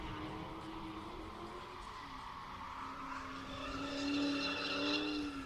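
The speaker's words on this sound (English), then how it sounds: "Definitely got an exhaust kit on it because they didn't sound this good from the factory." A Mustang drift car with an aftermarket exhaust kit and coilovers at a drift track, its engine droning steadily and then rising in pitch as tires squeal, loud and fairly close.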